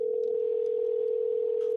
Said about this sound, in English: Our studio phone is ringing.